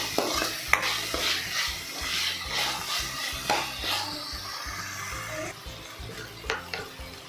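Chopped tomato sizzling and frying in a pan for a potato curry, with a spoon stirring and scraping in steady irregular strokes close by, occasional light clinks against the pan.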